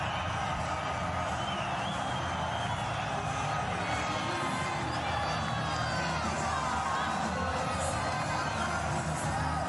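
A large cricket stadium crowd at a Pakistan versus Sri Lanka one-day international keeps up a dense, steady roar of cheering and shouting that fills the whole stretch without letup.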